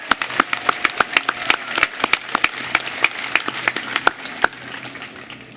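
Scattered applause at a law school commencement ceremony, distinct individual claps standing out sharply against a thinner crowd, tapering off toward the end.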